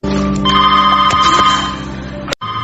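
A telephone bell rings loudly and steadily in a tense heist drama scene, its sustained metallic tone filling the clip before cutting off abruptly near the end and then resuming.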